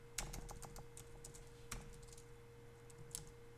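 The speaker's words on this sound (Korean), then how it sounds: "여기다가 수량을 넣고 엔터키를 눌러서 다시 또 입력을 해주시면 돼요" Quiet typing on a computer keyboard while quantities are entered into an electrical cost-estimating program: scattered light key clicks with a few sharper taps, like the Enter key, over a steady low electrical hum.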